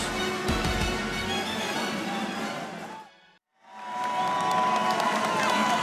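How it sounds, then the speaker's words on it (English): A high school basketball cheering section for Shawnee Mission Northwest, playing away at Olathe West in a sub-state final, roars and cheers loudly in a gym, cut by a brief silent gap before the crowd noise returns. "Shawnee Mission Northwest cheering section loving things on the road here at Olathe West"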